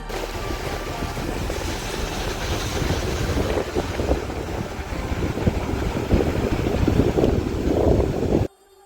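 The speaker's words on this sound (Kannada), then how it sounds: "ನೋಡಿ ಸಮುದ್ರದ ಹಳೆಯ ಸೌಂಡ್ ಕೇಳಿಸ್ಕೊಡಿ" Sea waves at Gangolli beach near the port in Kundapura, Udupi, give a steady, close, rushing roar of surf mixed with heavy wind buffeting. No voices.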